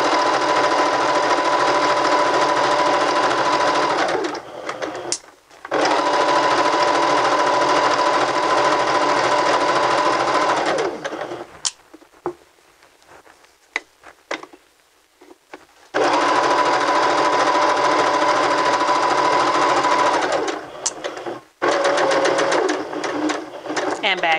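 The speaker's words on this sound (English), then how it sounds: "we're going to stitch all the way up to the top edge of the skirt." A sewing machine stitches fabric along a skirt seam in loud, steady bursts of several seconds each, separated by pauses for handling the cloth.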